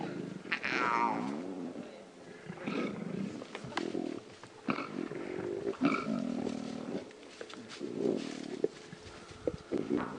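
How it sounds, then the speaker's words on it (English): Wild lion cubs of a pride on an African safari growl and snarl in rough, raspy bursts, near and fairly quiet, rising and falling irregularly over several seconds with faint background ambience. "Those are cubs growling."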